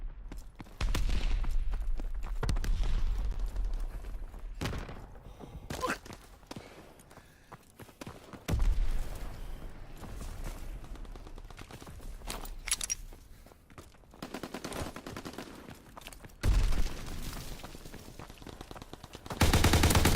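Gunfire and machine-gun bursts from the video game Call of Duty WWII, loud rapid volleys recurring in waves with brief lulls between, plus heavy thumps and battlefield noise.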